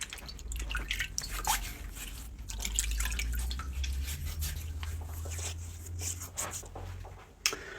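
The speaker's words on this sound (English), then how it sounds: "I'm going to wet my face." Soft splashing and dripping of water up close as a face is wet with cupped hands before shaving, with faint trickles and a low rumble beneath.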